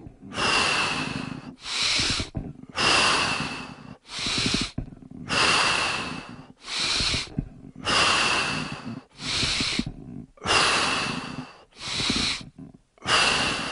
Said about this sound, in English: Continue breathing.